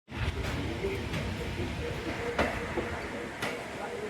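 Inside a Faiz Passenger train on the Narowal to Lahore route, a steady rumbling roll fills the carriage after a stop, with sharp clicks and knocks from the wheels and a few faint voices.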